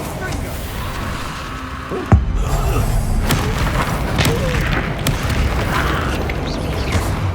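Bombarda spell in Hogwarts Legacy: a single loud booming blast with a low thud, followed by a dense rumbling mechanical clatter, with voices over the game sound.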